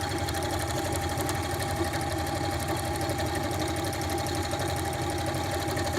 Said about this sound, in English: what you do on your machine is you go nuts sewing it.